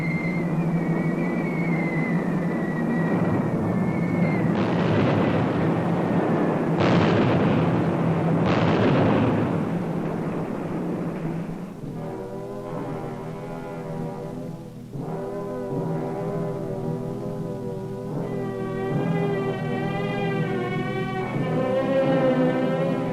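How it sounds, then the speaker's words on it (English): Aerial bombing of Spanish cities by the German Luftwaffe during the civil war, heard as a loud, continuous low droning roar of aircraft and blasts that later gives way to wavering siren-like tones. "The German Luftwaffe terrorizes the Spanish people by bombing defenseless cities."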